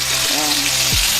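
Five marinated chicken leg pieces drop into very hot refined oil in a tawa, bursting into a loud, continuous, close sizzle, with a faint voice underneath.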